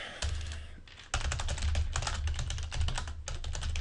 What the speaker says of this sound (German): Ich versuche schon extra übrigens leise zu tippen, aber es kann sein, dass euch das vielleicht immer noch zu laut ist.